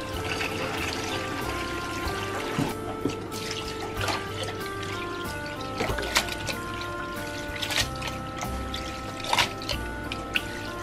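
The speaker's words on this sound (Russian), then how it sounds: "тетя промывает холодной водой." Cold water runs over cooked glass noodles for Korean japchae in a home kitchen, a steady close pouring and splashing that continues throughout, broken by a few light clinks and knocks.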